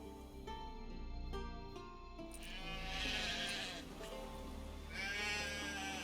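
Sheep bleat in drawn-out wavering calls over a steady synthetic hum and droning backdrop in the video game The Witcher 3, two bleats standing out clearly.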